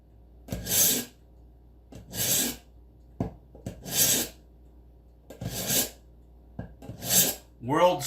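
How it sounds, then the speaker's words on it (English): Inexpensive Dollar General knife blade, wetted and drawn across a coarse-grit sharpener: five loud, close rasping strokes spaced about a second and a half apart, with quiet gaps between them. "So let me get the blade wet. And then we're gonna fucking sharpen this shit."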